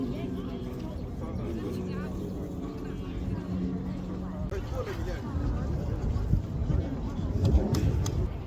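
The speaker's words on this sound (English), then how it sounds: "There's lorries coming back" Lorries driving back into China along a riverside road at the Dandong border: a continuous heavy engine rumble that grows louder and closer toward the end, with voices audible beneath it.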